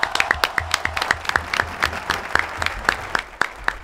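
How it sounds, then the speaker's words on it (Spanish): A small studio audience on a Spanish-language entertainment show claps for a prize winner: distinct, sharp individual claps in an uneven rhythm over a softer crowd bed, fairly close. "Un aplauso."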